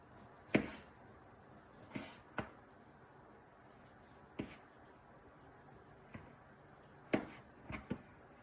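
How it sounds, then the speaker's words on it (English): A kitchen knife slicing through a tomato on a cutting board for an omelet, with sharp, separate cuts at irregular intervals, close and fairly quiet against a soft background. "I'll do the tomato. I like making slices and flipping that over."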